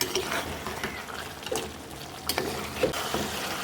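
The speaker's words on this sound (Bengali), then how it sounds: "মাংস এই যে কষাচ্ছি, আরও বেশ কিছুক্ষণ কষাতে হবে" Beef is being fried and stirred with garlic in a pot, producing a low continuous sizzle broken by a few sharp scraping strokes of the spoon, heard close with no voices.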